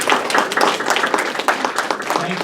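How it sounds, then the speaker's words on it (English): Audience applause at a program honoring a couple, steady, fairly loud clapping with some uneven swells and no voices standing out. "Would you all please give a big round of applause to Paul and Mary Margaret?"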